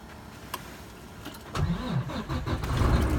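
A 2014 Volvo 670 tractor truck's diesel engine cranks briefly after a quiet start, catches at about the midpoint and settles into a loud, steady low idle close by.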